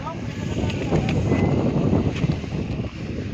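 Strong wind blowing at Pongalappara on the Agasthyarkoodam trek, a loud continuous rushing buffet against the microphone, with a voice faintly present beneath it.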